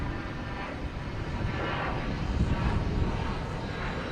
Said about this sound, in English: right behind it is Qatar. A350 coming from Doha.